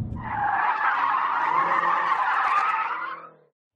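A 2013 BMW M5 skids across a test track, its tires letting out one loud, sustained squeal of about three seconds that cuts off abruptly, with no voices.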